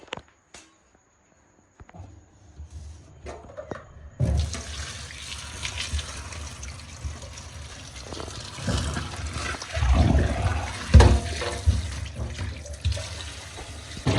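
Fruit being washed under a running kitchen tap, a steady splashing gush that starts after a few seconds of quiet handling and swells with louder splashes toward the end.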